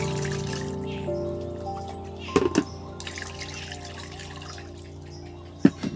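Chicken leg pieces are rinsed under a running tap, a soft steady trickle of water into a sink with a couple of brief clattering splashes, fairly quiet and without talk.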